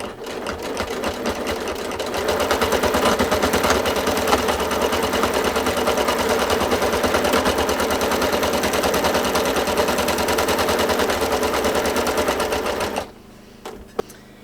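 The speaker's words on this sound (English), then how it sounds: "Now, even though I'm machine quilting," A sewing machine machine-quilts a baby blanket, running loud and steady in a fast, continuous mechanical whir for about eleven seconds before stopping abruptly, followed by a brief quiet click.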